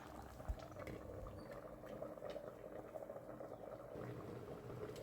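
Salted cassava boiling in a covered pot on the stove, a faint, steady bubbling and simmer that stays low and even throughout, with no one speaking.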